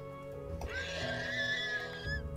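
A Shire pony in a Lord of the Rings mod for Minecraft gives a single drawn-out whinny, close and clear with no talking over it.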